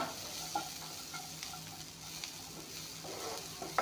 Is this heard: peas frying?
yes